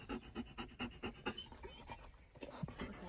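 A dog pants close by in quick, steady bursts of breathy huffs that continue through the whole moment, with faint background sounds but no clear talk.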